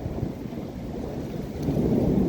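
A heavy storm pours down on the RER C line in Essonne, with steady dense rain and a low rumble of thunder swelling toward the end. The rain, hail and wind roar continuously at close range, and no one speaks.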